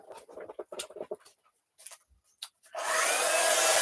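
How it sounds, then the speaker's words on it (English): Intermittent quiet knocks and rustles give way to a heat gun switching on, then blowing with a steady, loud, airy hiss. "Heat the heat gun, and then I'm going to heat it from behind"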